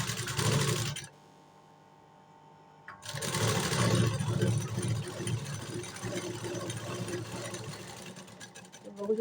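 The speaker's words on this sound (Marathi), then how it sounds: "मी एक सरळ शिलाई मारून घेतलेली आहे" A sewing machine runs in a fast, steady whir while stitching a straight seam on a blouse, stops briefly for about two seconds, then resumes, close up with no speech.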